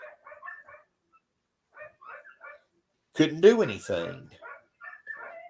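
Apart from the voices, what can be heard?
dogs barking at a school bus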